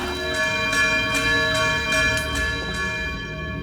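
Sustained bell in the Outer Wilds Echoes of the Eye submerged bell structure, a rich metallic ringing tone with steady harmonics and rhythmic pulses, loud and alone, slowly fading.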